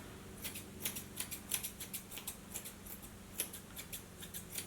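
Scissors trim a yarn pom-pom for a hedgehog craft, making quiet, crisp snips at a fairly regular pace, about a dozen cuts close by with no talking.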